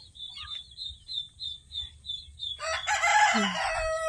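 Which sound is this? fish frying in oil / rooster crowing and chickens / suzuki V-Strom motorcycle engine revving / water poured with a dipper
rooster crowing and chickens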